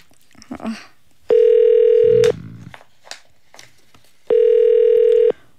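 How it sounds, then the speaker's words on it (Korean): A phone line on a Korean radio show gives two long, loud, steady ringback tones a few seconds apart after brief dialing clicks, with faint voices and small noises in the gaps between tones. "전화 한번 걸어보겠습니다."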